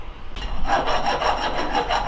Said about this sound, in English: I do need to knock down the edges, and I'm going to use this file here to do that